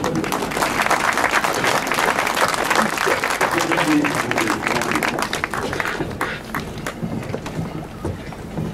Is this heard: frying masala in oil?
no